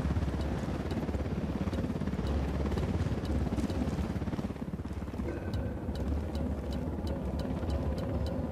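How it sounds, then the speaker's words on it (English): A helicopter in the video game Tom Clancy's Ghost Recon Wildlands, a continuous loud rotor thrum with steady rhythmic chopping and engine drone, close and sustained throughout with no talking. "Helicopter, get down!"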